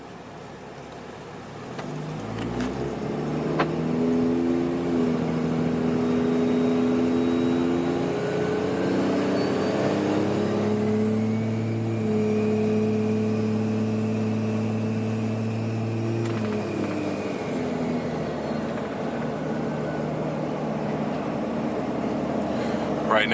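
Car fitted with compound turbos accelerating while driving, heard from inside: a low engine drone climbing in pitch through the gears with a rising turbo whine, loud and steady with a voice talking nearby.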